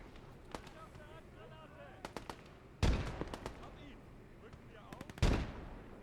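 Scattered rifle and machine-gun bursts crack through a World War II eastern-front battle in Gates of Hell Ostfront, punctuated by two heavy grenade explosions, while someone talks throughout.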